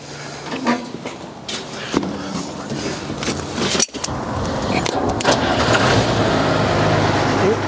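Log loader engine that turns over and tries to catch, cranking unevenly before settling into a louder, steady rough running and revving near the listener, with voices talking over it.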